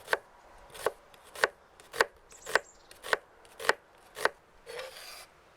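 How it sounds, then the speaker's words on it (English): A knife slices through a single white onion on a cutting board, giving eight evenly spaced crisp chops, close and clear with no talk. "We slice 1 onion."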